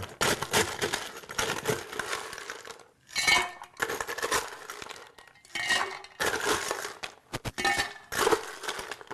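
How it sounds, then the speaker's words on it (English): Ice cubes tumble into a pitcher of carbonated orange and ginger drink, giving bursts of clinking and rattling against glass, separated by short pauses, with no speech. "actually adding ice into this drink"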